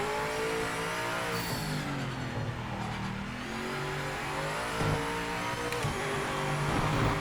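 BMW M8 GTE race car at the Nürburgring in the Project Motor Racing video game, its engine loud and continuous, revving up and down through gear changes with brief tire squeal, no talking.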